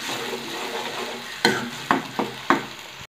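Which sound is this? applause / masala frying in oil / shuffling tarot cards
masala frying in oil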